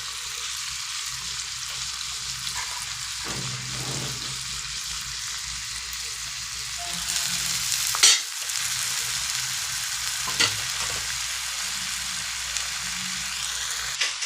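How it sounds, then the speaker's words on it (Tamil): Onion, tomato and curry leaves sautéing in a pan for a dry prawn masala, a steady sizzling hiss with stirring scrapes and a louder burst of crackle midway, no talking. "இது எல்லாத்தையும் போட்டு கொஞ்சம் நல்லா வதக்கி விட்டுடலாம்"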